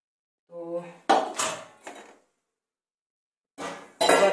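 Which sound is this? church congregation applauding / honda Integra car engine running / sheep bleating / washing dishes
washing dishes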